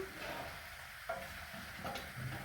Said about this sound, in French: Voilà, on va laisser mijoter un petit peu.